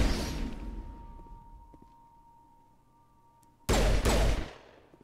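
Gunfire at small bug-like enemies in Mass Effect on Insanity difficulty: a quiet, humming stretch, then a sudden loud, rapid burst of shots near the end.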